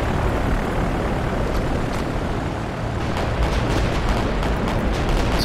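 Torpedoes strike a battleship in the naval game Victory At Sea, Pacific campaign: a dense, continuous roar of explosions and rumbling blasts, loud and unbroken for several seconds.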